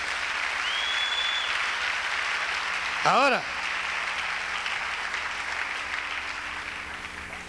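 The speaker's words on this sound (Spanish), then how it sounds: "Un aplauso para el Señor." Church congregation breaks into sustained applause during a Spanish-language sermon, dense clapping filling the room throughout while a preacher speaks over it and a brief sung or shouted phrase rises near the middle.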